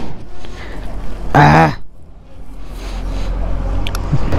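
A Yamaha R15 sports motorcycle being ridden, its engine giving a steady low drone with wind rush throughout, broken by a short burst of the rider's voice partway through.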